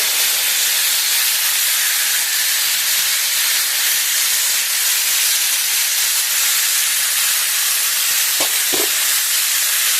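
Tomatoes added to a very hot pan with a splash of water, a loud continuous steamy hiss and sizzle close by, with a couple of faint knocks near the end.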